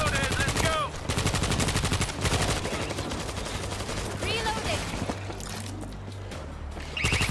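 Rapid automatic gunfire rattles continuously in a video game, dense and loud with overlapping bursts and occasional whooshing effects, while a voice talks over it.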